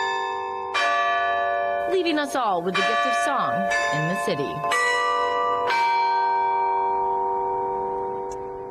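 Church bells at the Scottish Rite Cathedral in Indianapolis ring a melodic chime, clear sustained tones struck one after another with long ringing decay, while someone talks over the middle portion.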